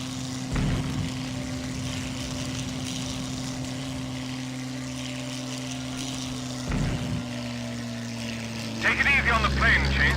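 A World War II-style propeller airplane engine drones steadily in the Secret Weapons Over Normandy video game, loud and continuous, with brief thuds and a burst of noise near the end.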